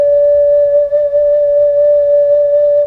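A 6-hole ocarina sounds a low D, one pure, steady whistling tone held for about three seconds, close and clear, with faint breath and room noise underneath.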